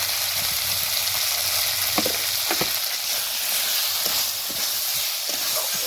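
Chopped tomatoes with salt sizzle steadily in a hot pan, a close, constant frying hiss with occasional soft stirring clicks.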